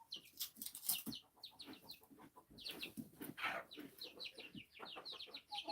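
Five baby chicks peep and cluck in a pen during rain, a busy overlapping stream of high chirps and soft clucks, fairly close and steady, with faint rain behind.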